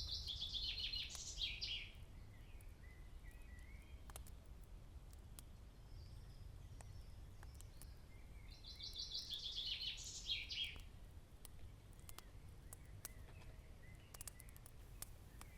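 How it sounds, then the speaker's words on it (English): Sleepy evening birdsong over fields and allotments, with two short, faint bursts of chirping from a distance set against a quiet, low background hum. "The only noise is the sleepy call of birds."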